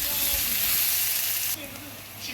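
Chopped onions and green chillies frying in a pan for spinach thoran, a close, bright sizzle that drops in loudness partway through as if stirred or the heat eases.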